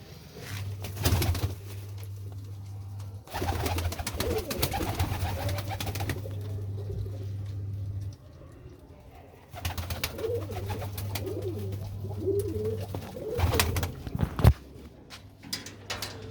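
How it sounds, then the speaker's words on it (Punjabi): Pigeons coo from a loft in bursts of soft, low, rolling calls, fairly close, with steady low hum between and a few sharp knocks or wing sounds; no talking. "ਆ ਦੇਖ ਲਓ ਬਾਈ ਇੱਧਰ ਸਾਰੇ ਕਬੂਤਰ ਹੀ ਆ ਵੱਡੇ"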